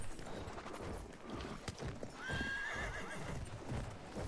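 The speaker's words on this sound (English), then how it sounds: "Are you on a horse?" Horse in a video game gallops with rapid clip-clop hoofbeats, then lets out a clear, loud whinny midway, all over steady game ambience with no talking.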